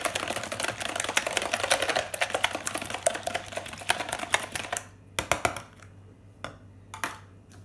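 Eggs are whisked in a bowl for homemade pasta, a rapid, dense ticking of the whisk against the bowl that gives way to a few scattered taps, close and fairly quiet.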